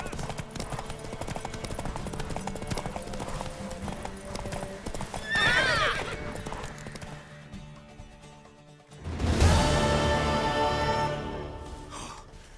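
A horse in The Witcher 3 video game clops its hooves steadily under background sound, then gives two loud whinnies, the second one longer and closer.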